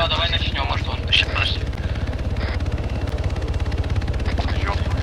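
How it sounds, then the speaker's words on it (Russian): Helicopter in the video game Arma 3 landing, a steady loud rotor thump and engine drone filling the whole clip, with people talking over it. "Вертолет садится, по-моему, да?"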